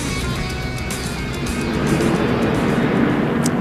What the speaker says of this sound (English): Got one of the jet blowers up on the banking of 1 and 2, trying to blow all the oil dry off to clean up the oil